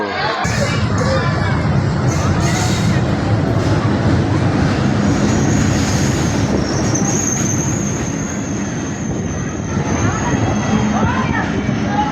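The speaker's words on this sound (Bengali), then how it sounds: "একটা ট্রেন 4টা 10-এ আসলো।" Bangladesh Railway train pulling into a station, a loud continuous rumble of rolling cars with a high metallic brake squeal rising midway, crowd noise and voices mixed underneath throughout.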